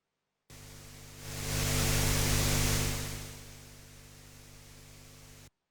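Steady broadband hiss from a spring reverb plugin's noise generator that swells louder for a second or two, then settles back, with a low hum running underneath throughout.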